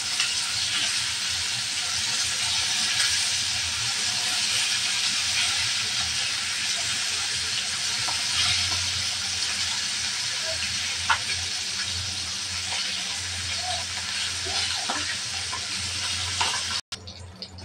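A fish that has just been flipped fries in a pan, giving a loud, steady hiss and sizzle that lasts throughout, with a brief clatter near the end.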